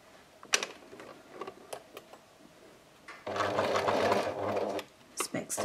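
A sewing machine stitches the seam of a tote bag made from tea towels, a steady mechanical run of about a second and a half after scattered handling clicks, followed by a few short bursts of stitching.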